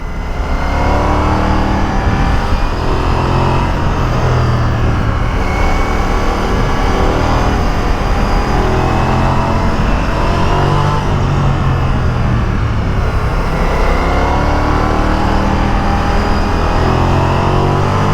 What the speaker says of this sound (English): Love the short shifting on roads like this.